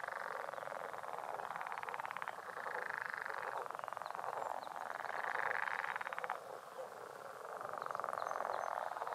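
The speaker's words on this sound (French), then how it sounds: "On la voit rarement chanter, mais on l'entend grogner." A leopard frog calls near water, a series of long grunting, snoring croaks in separate bouts, fairly faint with a quiet outdoor background and no speech.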